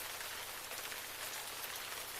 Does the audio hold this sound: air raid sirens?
no